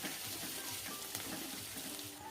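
Chopped onions fry in hot oil in a pan, a soft continuous sizzle with faint watery bubbling and occasional stirring, close but quiet, no voices.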